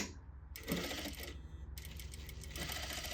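A sewing machine stitching a princess seam on a bodice front runs in a fast, even mechanical whir with rapid needle ticking, close and continuous with a brief change in pitch partway through.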